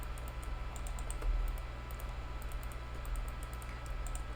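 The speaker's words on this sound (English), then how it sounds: "I apologize for the like clicking. I don't have a quieter mouse." Rapid, steady clicking from a computer mouse during 3D set-building work, close and continuous over a low electrical hum.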